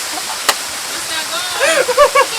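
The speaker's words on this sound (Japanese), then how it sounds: "水音が。" A winter waterfall at a nature farm pours in a steady, loud broadband rush, close by, with voices talking and calling out over the falling water toward the end.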